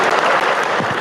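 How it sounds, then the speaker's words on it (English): A short, loud burst of dense audience clapping, about one second long, continuous with no pauses. "A big round of applause for the Timu version of me, everybody."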